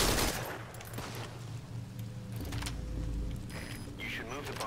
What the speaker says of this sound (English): Identify gunfire. Can't tell where it's coming from.